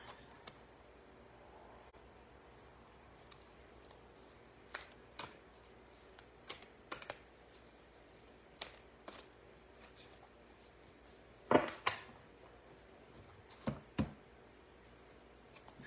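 Soft intermittent riffling and clicks of Rebecca Campbell oracle cards being shuffled close by, scattered flicks with a louder flurry near the end, no talking.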